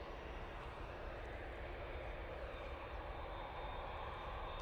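An Easyjet airliner passes at Manchester Airport, a faint but steady wash of jet engine noise that stays level throughout the short stretch.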